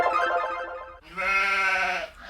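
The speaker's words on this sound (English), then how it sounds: "So the animal is sheep." A sheep bleats twice in close succession, the second call longer and strongly wavering, heard alone and up close.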